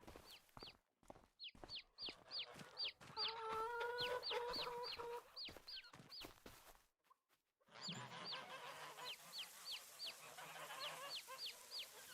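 Farm poultry in Farming Simulator 25, including chickens, quail and geese, cluck and chirp in quick repeated calls, with a busier flurry in the middle, after a short pause, then more clucking at a moderate distance.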